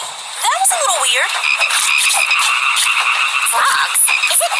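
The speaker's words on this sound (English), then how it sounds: "Frogs? Is it raining frogs?" Frogs croak loudly and continuously in a dense chorus, with repeated rising calls layered over a steady high chirring; some voices are present.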